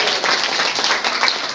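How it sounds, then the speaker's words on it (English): Audience applause for a senior senator at a 2024 election event, dense steady clapping from a crowd, loud and continuous through the moment. "let's give a big round of applause for the best senior senator in the United States of America, Dick Blumenthal."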